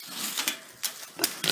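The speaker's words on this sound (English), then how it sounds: "She is the sow of our three pigs, meaning that she is the mother" A sow in a barnyard gives several short, close grunts and oinks in quick uneven bursts over about a second and a half.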